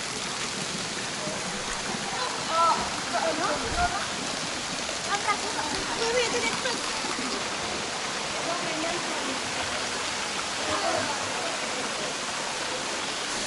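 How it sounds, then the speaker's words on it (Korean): A waterfall in Ubud, Bali, roaring as a steady, dense rush of falling water that fills the whole clip, with faint voices now and then beneath it. "저쪽 폭포가 엄청 대단해"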